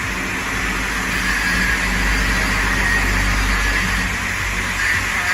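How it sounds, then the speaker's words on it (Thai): A Ford Ranger pickup engine idles with a steady, even low hum and rumble, running continuously at a constant level with no other sounds over it. "ทำการสั่งตัดเครื่องผ่านตัวรีโมทของเราเป็นที่เรียบร้อยแล้วนะคะ"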